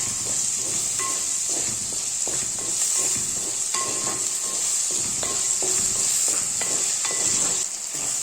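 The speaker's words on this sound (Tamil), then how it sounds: "தக்காளி வெங்காயம்லாம் நல்லா வதங்கிடுச்சு." Tomatoes and onions sauté in a pan with a steady bright sizzle, punctuated by repeated scraping stirs and light clinks of a utensil against the pan, close and continuous.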